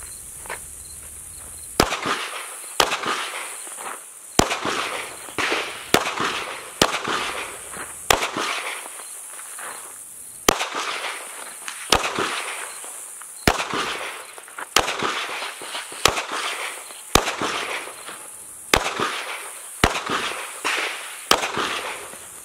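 Gunshots ring out at a shooting range, about twenty sharp loud cracks spaced roughly a second apart, each followed by a short echoing decay over a quiet background.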